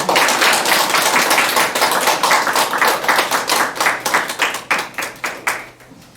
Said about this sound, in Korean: 다시 한번 서로를 향해서 축복의 박수 한번 힘차게